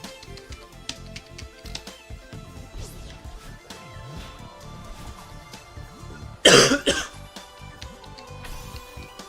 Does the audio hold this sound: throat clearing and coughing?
yes